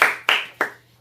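Three sharp hand claps close by in a quiet room during a Korean-language English vocabulary lesson, each crisp and separate with a short decaying ring, loud and alone.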